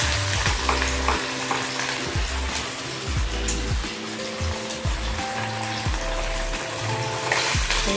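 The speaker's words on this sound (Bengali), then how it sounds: "এই যে কাতলা মাছের মাথা, এগুলো ভাজবো" Catla fish heads rubbed with salt and turmeric fry in hot oil in a wok, a loud, continuous sizzle with bursts of crackling and spattering, no voices.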